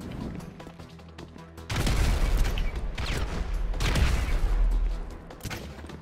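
Grenade launcher explosions in Grand Theft Auto V boom in a loud, rumbling barrage of several blasts and crashes that start abruptly and fade after a few seconds.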